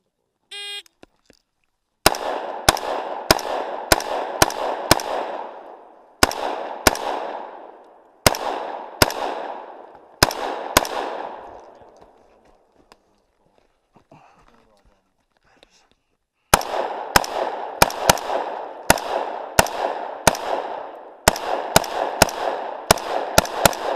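Pistol shots ring out at an SRA practical shooting competition outdoors in Korpilahti, loud and close in quick rapid strings with short pauses and one longer break, while a range officer calls out commands.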